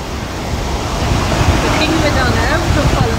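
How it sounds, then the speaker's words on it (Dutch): Caribbean Sea waves surging onto the shore in Panama, a loud continuous roaring wash of surf with heavy wind rumble on the microphone, a voice faintly under it. "dat daar de Caribische Zee aankomt rollen in al zijn woestheid"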